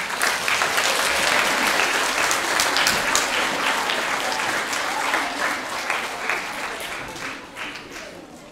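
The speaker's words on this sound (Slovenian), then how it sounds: "na koncu vse nagradite z gromkim aplavzom" Audience applauding in a concert hall at a choir festival, a sustained dense roar of many hands clapping that holds steady then gradually thins toward the end, with faint voices underneath.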